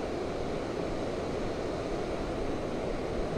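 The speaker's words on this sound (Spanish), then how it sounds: "Hacemos una toma de esta bonita cascada." Steady rushing roar of a waterfall, loud and continuous, a broad wash of falling water with no other sounds or voices.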